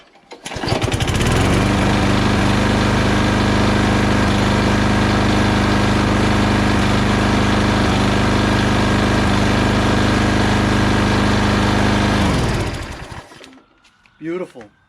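A used Craftsman 21-inch push lawn mower with a Briggs & Stratton Quantum engine starts, runs at a loud, steady close drone for about eleven seconds, then cuts off and winds down, followed by brief handling noise.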